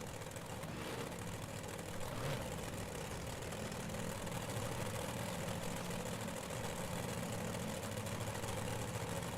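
A dirt-track race car at Williams Grove spinning donuts, its engine a constant rough roar blended with broad crowd and track noise, steady and fairly distant throughout.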